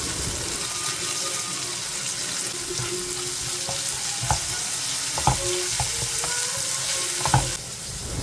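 Onion, fennel, garlic and ginger fry in a pan for dry fish thokku, a steady close sizzle with occasional sharp clinks and scrapes of stirring, no talking.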